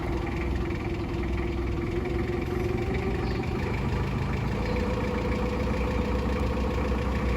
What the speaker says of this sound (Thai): จะพามาแนะนำรถโฟล์คลิฟนะคะขนาด 3ตันของยี่ห้อโคมาสุนะคะ